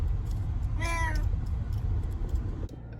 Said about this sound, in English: All right, Critter the cat.